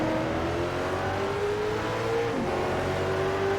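A Honda NSX engine revs in the Need for Speed: SHIFT racing game, a steady, loud, close motor drone that climbs in pitch and briefly dips before rising again.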